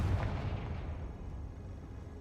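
A Confringo fire spell explodes in the video game Hogwarts Legacy, a low, rumbling boom that fades over a couple of seconds, fairly faint and with no talking.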